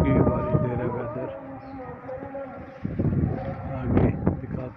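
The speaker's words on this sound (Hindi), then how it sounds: "इतना जोर है हवा का आज" Strong gusts of wind buffet the microphone outdoors on a kite-flying day, a steady rushing roar that rises and falls with heavier gusts, with voices faintly in the background.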